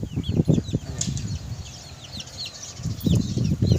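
Backyard chickens in a small coop cluck and flap, with bursts of wingbeats near the start and end and high chirps scattered throughout, fairly close.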